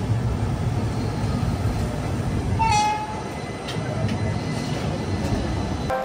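The Golden Temple Mail from Amritsar runs through Gujarat after Godhra Junction, a steady loud rumble of wheels and carriages with a short horn blast from the train partway through.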